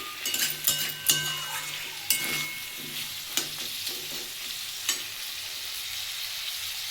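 A spatula stirs frying tomatoes and potatoes in a pan, giving a soft sizzle broken by sharp metallic scrapes and clanks at irregular intervals, with no talk.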